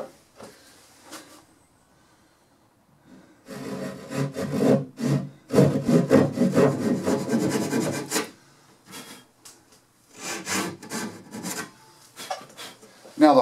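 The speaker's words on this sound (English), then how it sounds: "So the only thing left to do is get out the old Dazuki." A Japanese dozuki pull saw cuts wood by hand for a Mission-style secretary, bursts of rasping strokes in quick rhythmic runs, close and fairly loud, with a quiet pause before a final flurry.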